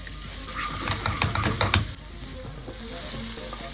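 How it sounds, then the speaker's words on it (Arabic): Butter sizzles steadily in a pan as minced garlic and dried coriander fry for molokhia with rabbit, with a clattering stir of utensils midway over a continuous close hiss. "هنزلوا بشويه زبده كده على الطاسه، وبعد كده ننزلوا عليهم بشويه الثوم مفروم وشويه الكزبره الناشفه"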